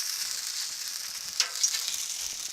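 Vegetables for a stir fry sizzle steadily on a hot Blackstone flat-top griddle, a close, even hiss with a couple of brief louder spits and no talking.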